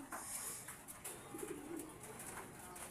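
Racing pigeons coo softly in a loft, low repeated murmurs mixed with faint wing flutters and chirps, fairly quiet and close.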